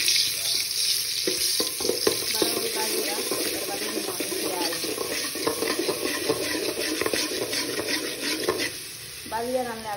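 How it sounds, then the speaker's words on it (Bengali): Garlic frying in hot oil for a Sylheti shutki curry, with a continuous close sizzle and repeated spatula stirring strokes, loud throughout, fading briefly near the end before resuming. "রসুন অনেকগুলো আগে ভালো হয়ে বাজবো"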